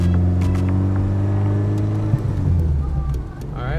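A Porsche engine running after repair, a steady loud idle with a deep rumble and a brief blip partway through, with faint voices in the background.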